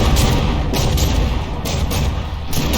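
Battleship cannons fire and shells explode in a tournament battle in the naval combat game From the Depths, a dense run of booming blasts and crackling impacts, loud and continuous.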